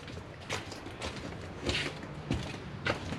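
An old back door in a worn seaside house creaks as it swings, with a few drawn-out groans and knocks close by, fairly loud and with no talk over it.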